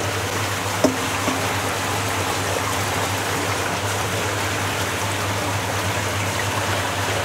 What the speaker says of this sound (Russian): Все, выливаем в инкубатор икру.